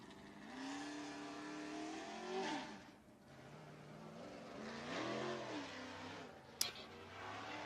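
A race car engine revs up and down in long sweeps, faint and distant, with no talking.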